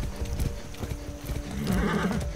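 Horse hooves clip-clopping with a whinny in the video game Far Cry 6, a few irregular hoofbeats over a low engine-like hum, then a drawn-out neigh near the end, moderately loud.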